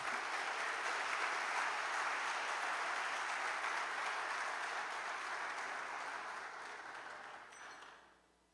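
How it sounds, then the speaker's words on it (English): Conference audience at a forum on artificial intelligence giving sustained applause, a dense wash of clapping that holds steady, then fades out near the end. "Let's welcome Sophia the robot with a round of applause."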